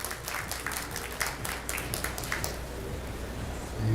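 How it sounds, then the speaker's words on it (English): Light, scattered applause from a small crowd at a world team pool championship rack, soft and somewhat distant, several claps standing out over a low steady hall hum. "Jason Shaw applauding that one."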